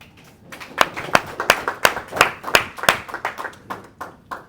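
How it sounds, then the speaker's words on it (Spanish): A small church congregation claps by hand, a brisk uneven burst of close, crisp claps that builds and then thins out, with no voices. "Vamos a darle un aplauso a Cristo por la palabra."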